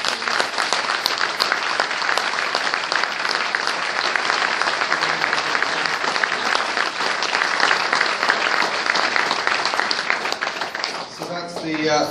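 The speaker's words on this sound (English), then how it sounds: "give a round of applause for" Sustained applause from an audience at a season ticket holders' talk evening, dense steady clapping filling the room for about eleven seconds before tapering off with a few scattered claps at the end.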